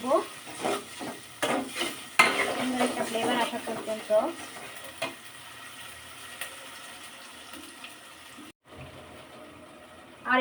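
Chicken with ginger garlic paste and garam masala fries in a pan, with close stirring scrapes and a frying sizzle, busy at first and then fading to a quieter sizzle before a brief gap.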